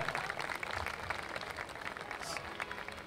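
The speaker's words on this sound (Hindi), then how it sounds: "तालियों के लिए बहुत बहुत शुक्रिया" Audience clapping at a qawwali performance on a cold evening, a full crowd applauding in a thick, even patter that starts strong and eases slightly as it continues, no voices on top.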